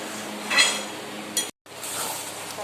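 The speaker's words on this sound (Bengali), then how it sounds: "মাংস কষা হচ্ছে" Metal scraping and clinking in a pot as meat is sautéed over a soft frying hiss, with a couple of sharp stirring knocks and a brief cutout.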